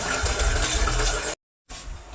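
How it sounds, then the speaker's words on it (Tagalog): Water gushing from a tap to fill a kettle for boiling coffee water, a loud steady pour that cuts out briefly and then resumes. "nagpapakulo tayo ng tubig, pang kape"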